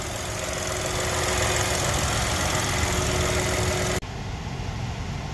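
A steady, low idle from a 1.3-litre three-cylinder turbocharged car engine hums evenly with a faint mechanical tick, close and constant, then the tone briefly drops out near the end before resuming.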